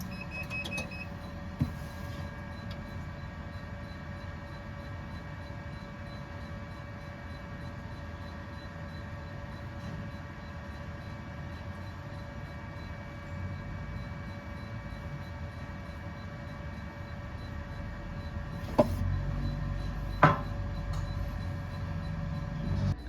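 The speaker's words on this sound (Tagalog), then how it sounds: "At ganito naman po ang tamang pag-head clean." A UV printer runs its nozzle check and head cleaning, giving a steady machine hum with faint whining tones and a couple of brief mechanical clicks and knocks near the end, with no talk.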